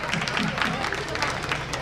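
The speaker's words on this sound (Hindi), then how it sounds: "सभी से मेरी प्रार्थना की जोरदार ताली लगा दीजिए।" An audience at a Maa Bhagwati jagran claps loudly and steadily, a dense continuous roar of hands with crowd voices mixed in.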